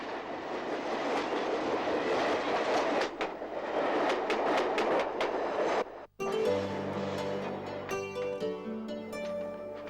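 A Harris electric suburban train from the 1950s runs steadily up close with a broad rumbling roar, briefly cutting out near six seconds before tonal motor whine and layered humming rise as it continues.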